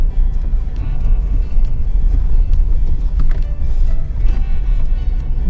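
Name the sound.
car climbing steep mountain road near Shinkula pass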